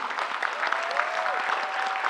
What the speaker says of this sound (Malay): kita berikan tepukan paling hangat kepada Yang Berhormat Datuk Hasni